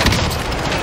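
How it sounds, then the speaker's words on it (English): A grenade blast in a multiplayer shooter: one loud, dense boom that fills the brief moment, with no talk over it. "Throwing grenade!"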